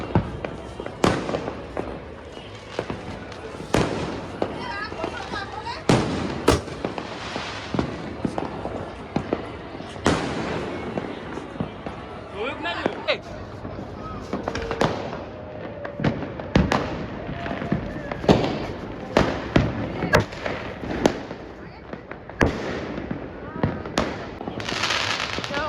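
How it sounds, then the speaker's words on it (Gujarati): Uttarayan night fireworks and firecrackers bursting across Vadodara, a steady barrage of sharp cracks and booms at varying distances, some close and loud, others distant, with occasional voices in the background. "બધા ફટાકડા ધડા ધૂમ ધડા ધૂમ ધડા એમ બીવડાઈ દીધી."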